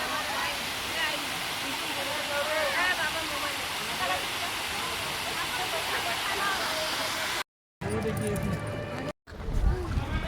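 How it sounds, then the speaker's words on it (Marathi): Small artificial waterfall in a Japanese garden at Ramoji Film City, its steady rush and splash of falling water running continuously, broken by a brief cut near the end. "जपानीज गार्डनमध्ये किती सुंदर असं छोटा धबधबा केलेला आहे."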